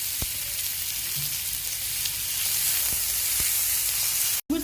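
Onions sautéing in 2 to 3 tablespoons of hot oil in a pan give a steady, close, loud sizzle and fry hiss with a few faint stirring clicks, without talk, briefly cut near the end.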